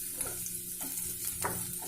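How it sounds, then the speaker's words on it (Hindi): Garlic, ginger and green chilies sauté on a low flame for lemon coriander soup, a quiet steady sizzle broken by a few soft stirring scrapes, no voices. "ये सब डालने के बाद फ्लेम को आप लो करें और इन्हें इस प्रकार सौते करें।"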